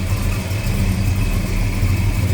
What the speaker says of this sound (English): sounds like a mild cam. What a great sounding car.